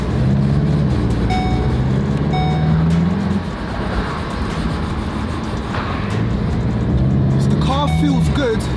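A rebuilt, previously wrecked 2019 VW Golf GTI drives along with a steady, close engine and road hum throughout, with brief higher whines and clunks near the end.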